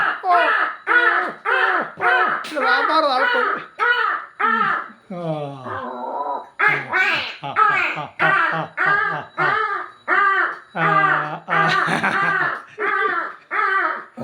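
A voice repeatedly imitates a crow's caw in a steady rhythm of short, harsh calls, loud and close, with a brief laugh-like break midway.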